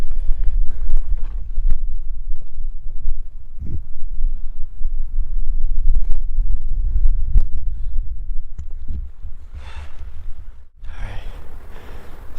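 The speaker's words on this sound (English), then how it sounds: "It's so windy today, we can't hear nothing." Strong wind buffets the microphone on a steep mountainside during a bear hunt, a constant loud rumbling roar with gusts swelling and easing throughout.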